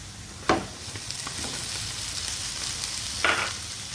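Diced eggplant frying with onion in a pan, a steady close sizzle broken by a couple of sharp spatula-and-pan clatters from stirring.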